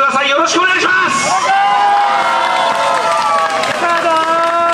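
A crowd at a yosakoi dance event in Tochigi cheers and whoops loudly, with shouts and sustained vocal excitement filling the space and some clapping mixed in.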